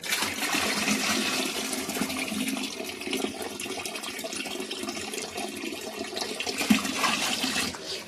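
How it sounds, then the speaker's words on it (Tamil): Water is poured into a container holding dye for colouring a fishing net, a steady splashing, gurgling pour close by that continues throughout without speech. "இதுக்கு இன்னும் கொஞ்சம் தண்ணி விடுவோம்"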